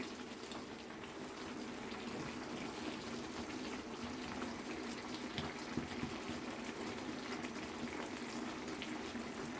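Lotte fish curry simmering in the watery liquid released by the fish, given a single stir: a steady, soft bubbling wash with faint liquid movement, continuous and fairly quiet throughout, with no talking.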